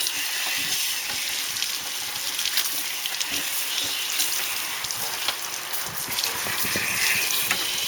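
Water streams steadily into a brake caliper while rinsing it out, a continuous close hiss and splatter with small sputtering bursts throughout, and no speech.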